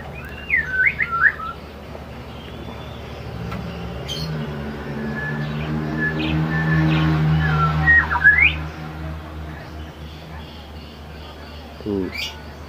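A wild Sumatran white-rumped shama gives brief whistled chirps and trills at the start and again later, over a steady low hum with a voice talking softly in the middle.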